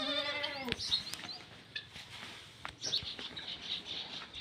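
Goat kids being fed milk bleat, with one clear, quavering bleat at the start followed by fainter calls and small rustling, fairly quiet overall.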